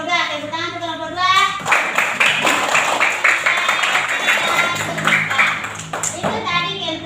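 A classroom of pupils claps for a group that has just presented. A brisk burst of many hands clapping, close and fairly loud, runs through the middle, with children's voices talking before and after it.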